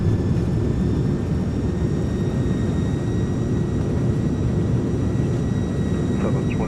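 Broad roaring rush of an airliner decelerating on the runway after touchdown in Microsoft Flight Simulator, loud and continuous with a steady engine whine on top.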